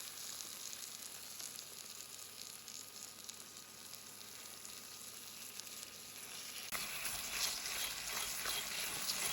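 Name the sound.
fish frying skin side down in a hot pan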